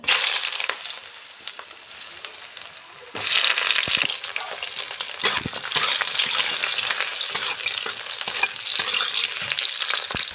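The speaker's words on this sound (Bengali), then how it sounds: "সেই তেলের মধ্যে আমি পটলগুলো ভেজে নেব একটু লাল লাল করে।" Pointed gourd pieces frying in oil in a wok, a quiet sizzle that jumps louder after a few seconds into a dense crackling hiss, with light stirring clicks throughout and no voices.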